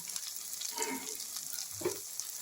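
Cumin and coriander powder frying in a pan with salt and turmeric for a small fish curry, a soft steady sizzle with faint stirring scrapes, quiet and close.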